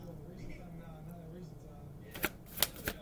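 Oracle cards are shuffled in a quick flurry of three or four sharp riffling snaps near the end, after a stretch of quiet room hum with faint speech underneath.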